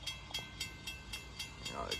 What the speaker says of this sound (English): we got another CSX eastbound train coming down